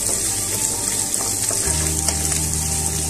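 Onions for chili chicken sizzle steadily in a hot pan, a loud, close, continuous frying hiss with occasional stirring and no speech.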